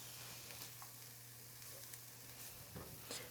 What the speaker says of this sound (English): We're just gonna go ahead and cook these onions a little bit, get them a little bit softer.